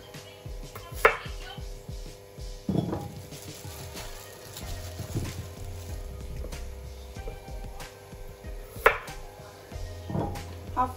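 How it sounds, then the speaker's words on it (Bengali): New potatoes being halved with a knife on a cutting board: a series of separate, fairly quiet chops with short pauses between them, each cut making a thud against the board. "তার নতুন আলু, এভাবে আমি হাফ হাফ করে দিব।"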